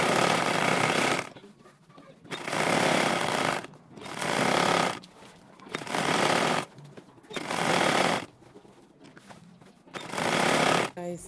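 A sewing machine top stitching a kids' dress runs in six loud, steady bursts of about one to one and a half seconds each, separated by short quiet pauses, close up with no talking.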